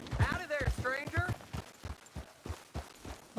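Steady, rhythmic horse hoof clip-clops thud along at a walking pace in Red Dead Redemption 2, close and moderately loud, with a voice speaking over them.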